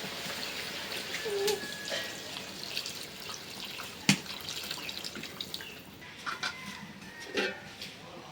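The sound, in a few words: water poured into tilapia and eggplant curry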